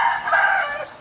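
Caged rooster crowing at a property raided by police in Queensland: one loud, close cock-a-doodle-doo lasting about a second, heard alone.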